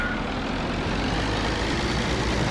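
A loud, steady engine drone rumbles continuously from a tracked farm vehicle in Farming Simulator, heavy and unbroken throughout.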